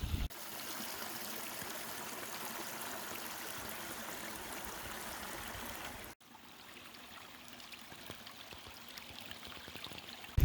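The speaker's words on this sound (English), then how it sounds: "right here you'll notice Slab Falls" Slab Falls near the old stone bridge at Camp Foster, on a rocky glacier-type lake, gives a soft, steady rush of running water, fairly distant and faint, continuing throughout with a brief drop partway through.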